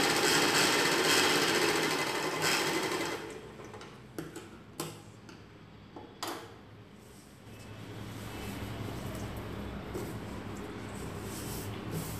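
A sewing machine stitches folded cloth for a girl's night dress, running as a loud, steady mechanical whir that pauses with a few clicks, then resumes more quietly and evenly.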